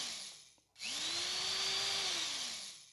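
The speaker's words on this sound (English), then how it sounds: "And then we'll just go and screw them in." A screw is driven into the foot of a Samsung Q70C QLED TV with a small powered driver, a brief pause and then a steady close whirring whine that rises and tapers off.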